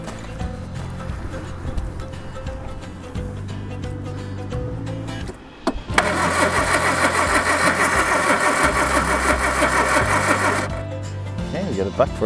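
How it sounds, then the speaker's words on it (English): Classic Mini engine being cranked with the choke pulled out, firing unevenly and backfiring through the carburetor, a loud steady churning run of about five seconds after a quieter stretch of cranking and low talk. "Get it backfire through the carburetor."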